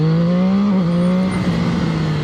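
A Zhang Xue 820RR motorcycle engine drones loud and close at steady revs, its pitch dipping briefly and then holding before settling into a rougher tone.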